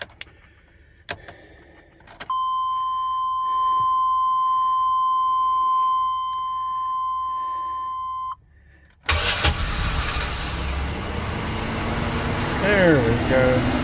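A 1998 Chevrolet Express 3500 van is keyed on, and a steady electronic warning chime rings for several seconds. Then the engine cranks, catches, and settles into a loud running rumble close by.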